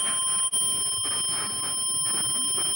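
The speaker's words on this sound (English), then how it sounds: "You can see that the alarm is immediately triggered" A home intruder alarm set off by a motion sensor blares continuously with steady high-pitched tones, loud and close, pulsing slightly for nearly three seconds with no voices.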